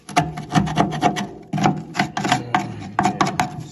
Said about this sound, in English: Dig off all the sealing around where these trim clips are fixed on.